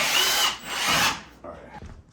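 A power drill bores through wood to run wiring for a 240V Cadet Com-Pak electric wall heater. The motor whines hard for about a second, then winds down, followed by a few softer clunks and scrapes.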